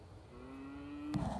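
One cow lets out a long, steady moo close by next to a truck or side-by-side on a cattle farm, and a short clatter follows at the end, with no one talking.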